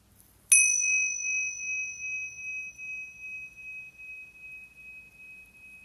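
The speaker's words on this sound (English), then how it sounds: "And at the sound of the bell," A meditation bell is struck once and rings out clearly, its bright tone sustaining and slowly fading over several seconds in a quiet room with faint low background rumble.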